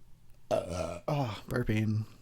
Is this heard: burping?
yes